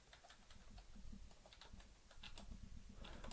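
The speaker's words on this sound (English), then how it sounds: "Yes, I am typing this in." Rapid clicking of keys typed on a computer keyboard, a close, steady patter of light taps running throughout with no voices.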